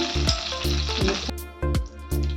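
Half a spoon of mustard seeds splutters in about three spoons of hot oil: a loud, close, dense sizzle broken by repeated bursts of popping.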